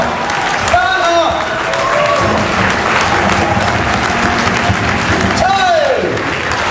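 Standing ovation from a university symposium audience, sustained loud clapping from a large crowd with voices and shouts mixed in and a couple of whistle-like cries cutting above the applause.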